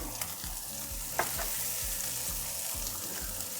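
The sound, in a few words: sesame oil sizzling in a pan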